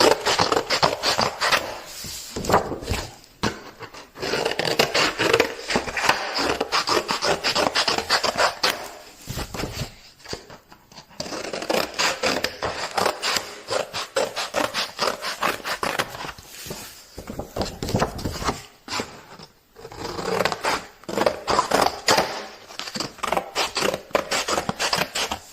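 Cardboard being cut with a small precise finishing cutter, close and fairly loud repeated rasping and scraping strokes in irregular bursts separated by brief pauses, with no voices.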